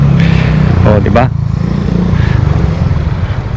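A motorcycle runs along Burgos Street toward Barangay Sapang Bayan in Calumpit, Bulacan, its engine a steady close drone under someone talking throughout.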